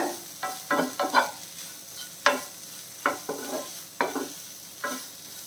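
Shredded chicken being stirred through a hot pan for a Tamil-style chicken fry on medium flame, a spatula scraping in repeated short strokes over a steady low sizzle, close and clear with no talking.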